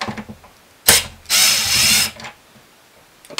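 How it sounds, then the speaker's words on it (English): Impact driver whirring briefly, then running longer in a rattling ratcheting burst while backing screws out of a shiatsu neck massager housing, close and loud against a quiet room. "I didn't really even need to use the impact driver."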